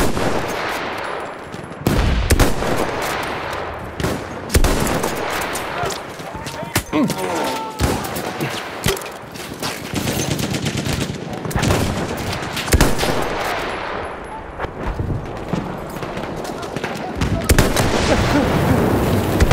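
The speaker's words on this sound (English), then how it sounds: "enemy machine gun sighted!" Battlefield 1 gameplay with loud, dense machine-gun bursts and rapid gunfire repeating across the scene, at times near and sharp, with a voice speaking in between.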